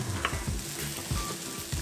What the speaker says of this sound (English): We've sauteed those, getting a little bit more flavor to the onion and the jalapeno.